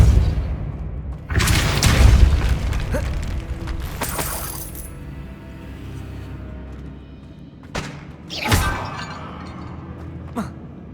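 A Depulso force spell cast in Hogwarts Legacy, a loud booming whoosh with a shattering crash, followed later by a second sharp blast and fading rumble, with a voice speaking over the game action.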